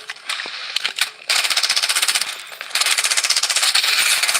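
Automatic gunfire rattles in a squad video game, first as a few scattered shots and then as long, fast bursts of rapid fire that run loud and continuous to the end.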